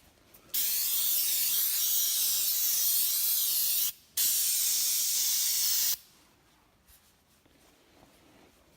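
Aerosol protectant hisses from a can onto a Polaris RZR XP 1000 side-by-side in two close, steady bursts, a long spray followed by a brief break and a shorter one, then quiet handling noise.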